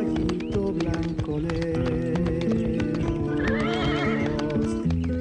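A white horse whinnies over steady clip-clopping hooves, set within music, the neigh and hoofbeats loud and prominent throughout.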